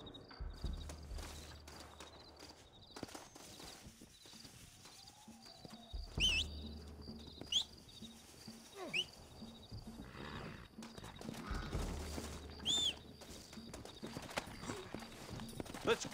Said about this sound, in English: Looks like Carlos lifted some horses